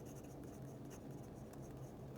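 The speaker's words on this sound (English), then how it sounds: "It's a mechanical pencil, it writes." A Zebra M-701 steel mechanical pencil scratches faintly across paper in a few short, close strokes at low volume.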